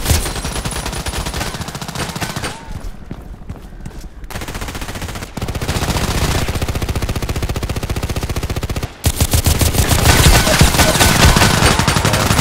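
Rapid H&K 416c rifle fire in the Contract Wars game, a steady stream of loud shots with brief pauses and a short break before the firing resumes even harder.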